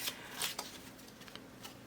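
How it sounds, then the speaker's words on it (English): Soft, close riffling of tarot cards being shuffled by hand, a few quiet papery flutters and taps in quick succession with no talking. "It feels nice to shuffle."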